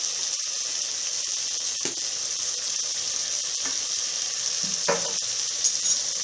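Turmeric and spices sizzle steadily in hot oil in a pan while making peas pulav, a continuous hiss with a few brief louder clinks and stirring scrapes.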